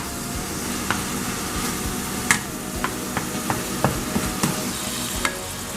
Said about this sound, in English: Once you put the browning in, just go ahead and mix it around.